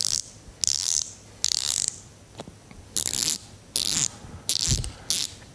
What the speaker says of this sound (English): As you can hear, it's a very fine tooth ratchet.